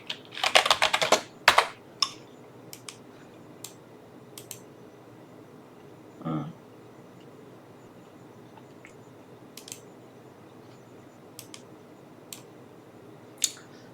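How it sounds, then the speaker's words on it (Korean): Computer keyboard keys pressed, including Shift and Enter, in a quiet room: a quick flurry of close, crisp typing clicks at the start, then scattered single keystrokes spread out over the rest. "여기 Shift 누르시고 Shift 누른과 동시에 같이 엔터를 누르세요"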